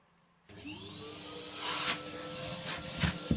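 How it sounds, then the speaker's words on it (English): A hoover starts up suddenly and runs with a steady whining drone while sweeping out a Mendip Churchill 5 convection wood burning stove, with occasional sharper rattles and sucking bursts as debris is pulled in nearby. "And then I'm going to put the hoover on."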